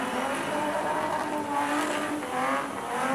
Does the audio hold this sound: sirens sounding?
no